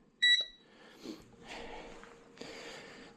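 A PT520B plus gas leak detector starting up gives a brief pair of bright electronic beeps, followed by quiet rustling and handling noise.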